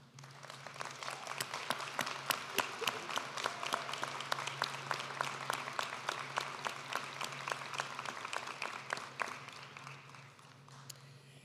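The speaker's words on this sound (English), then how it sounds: "Will these students please stand for a round of applause for all of their hard work" Sustained audience applause at a SUNY Canton honors convocation, a steady field of many hands clapping in a large room, moderately distant and even in level for over ten seconds before thinning at the end.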